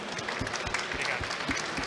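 An audience at the Arnold Talks 2023 event claps steadily, a soft, continuous patter of many hands heard on its own, fairly distant and faint.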